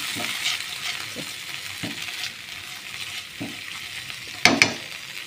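Pav bhaji vegetables are mixed in a pan over a soft steady sizzle, with a few spaced scraping strokes and a sharp clatter of the utensil near the end, no voices.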